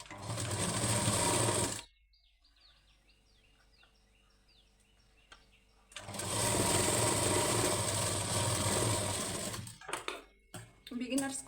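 Sewing machine stitching a lining blouse, its fast motor whir running loud and close, stopping for a few quiet seconds with faint clicks, then resuming and ending in scattered handling knocks.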